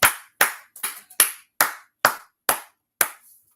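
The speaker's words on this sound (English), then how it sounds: "clap it up" Eight sharp, evenly spaced claps ring out close and alone, each with a short decaying tail, with a quieter double clap mixed in near the start.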